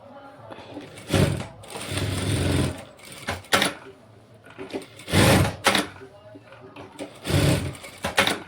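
A sewing machine stitches a frock lining of silk saree fabric in several loud bursts of rapid whirring, pausing in between, with a voice talking in the gaps.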